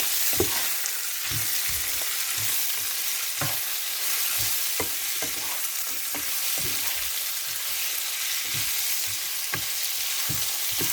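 Vegetables and egg being stir-fried in a pan with carrot and chili, steady sizzling frying with repeated scraping stir strokes of a spatula throughout, close and fairly loud with no talking.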